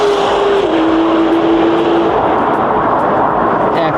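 A Ferrari Dodici Cilindri race car roars down the main straight at a speedway, a loud steady engine note with a brief tonal shift early on, heard amid broad track noise.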